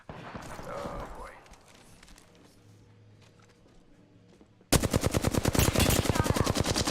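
Sustained automatic gunfire from enemies in a battle royale video game, first sparse shots and gameplay noise, then a loud, rapid, continuous burst of machine-gun fire taking over the final two seconds.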